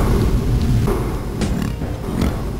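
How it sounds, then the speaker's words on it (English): Pig cop enemy snorting in the Duke Nukem 3D video game, a few rough low grunts and snorts in the background under loud, continuous game noise. "You can hear him snorting in the background."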